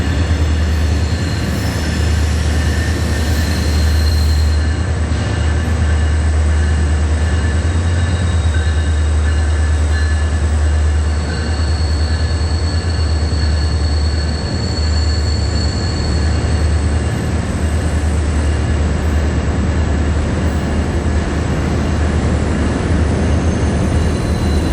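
A CSX freight train moves through Indianapolis in a loud, steady, close rumble of rolling railcars, with faint high wheel squeal running through it and no voices.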